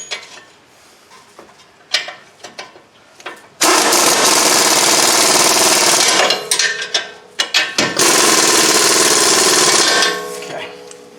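Front strut bolts on a 2009 Honda Pilot are driven in with a loud, rattling power impact tool in two long bursts separated by brief pauses, close up, with clinks of metal parts and handling before and between.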